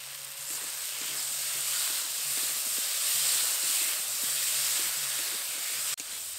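Salt, turmeric powder, cumin and dried chili paste sizzling in a pan with fish curry and melting tomato, a broad steady hiss near and fairly loud, with a brief clunk near the end.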